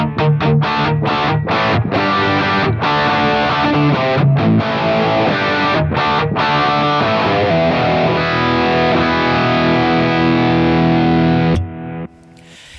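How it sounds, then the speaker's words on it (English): Distorted electric guitar through an Axe-Fx III with a Ruckus-style drive pedal into a USA Pre-Clean amp, played alone as loud chugging riffs with sharp stops before a final sustained chord that cuts off abruptly. "But I turn on the drive pedal, which is a ruckus style, and this is what that sounds like."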